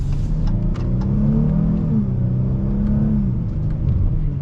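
A 2022 Dodge Challenger GT AWD accelerates hard, its engine roaring loudly and continuously up close, with the steady rumble shifting pitch through abrupt gear changes.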